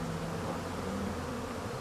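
Honeybees buzzing at a beehive in early spring, a steady close drone with a low hum holding level for the whole stretch, no voices present.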